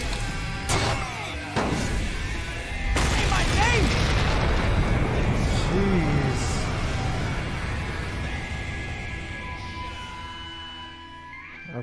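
Booming explosions and crashes from the Sunset Overdrive video game trailer, loud and dense with several sharp hits early on, then a rumbling roar that slowly fades, with a voice talking over parts of it.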